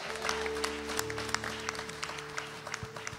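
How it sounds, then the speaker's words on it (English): A church congregation claps hands for Jesus during a gospel choir performance, a steady dense patter of clapping with sustained musical tones and a low hum running underneath throughout. "Come on, clap your hands for Jesus."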